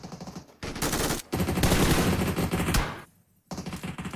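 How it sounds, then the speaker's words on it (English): Dense bursts of rapid gunfire from a PUBG Mobile esports match crackle almost nonstop, with automatic fire and single shots overlapping, a brief gap near the middle and a quieter pause before the shooting resumes. "Beautiful gunshots there being just fired everywhere."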